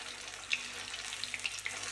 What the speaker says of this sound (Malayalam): നമുക്ക് എണ്ണയിലിട്ടിട്ട് ഫ്രൈ ചെയ്തെടുക്കാം